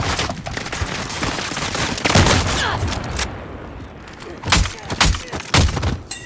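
Rapid gunfire in a video game firefight, loud bursts of shots and thuds clustering together, easing briefly, then returning in several sharp volleys.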